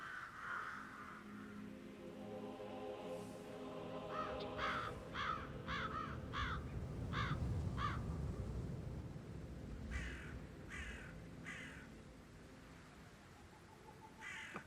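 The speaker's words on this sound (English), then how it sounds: "never get rid of those stupid birds" Crows in the Hitman game on Dartmoor, several harsh caws in quick bursts, then a few more later, fairly near over a low ambient rumble and soft rain-like hiss.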